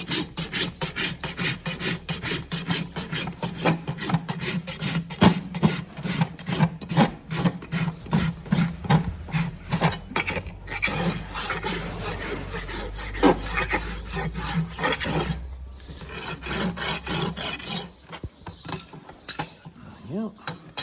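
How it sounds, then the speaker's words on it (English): A farrier's rasp files a horse hoof in steady, rhythmic back-and-forth rasping strokes, close and dry, with a short pause near the end before the filing resumes. "I've always been told to use a rasp"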